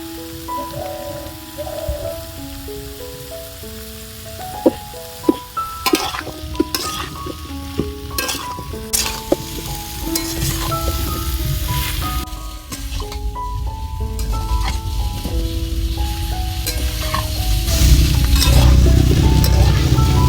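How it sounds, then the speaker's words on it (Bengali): Mixed vegetables with potato and papaya sizzle and fry in a pan, crackling steadily with occasional sharp stirring clatters and a background melody, the frying growing louder toward the end. "সব সবজিগুলো দেওয়ার পর কিন্তু কিছুক্ষণ ভেজে নিয়েছি"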